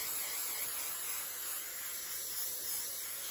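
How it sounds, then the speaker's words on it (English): A continuous aerosol spray of 3M Super 77 multi-purpose adhesive onto a plastic sheet hisses steadily and close, a bright even rush of air lasting several seconds without pause. "spray some on this sheet of plastic."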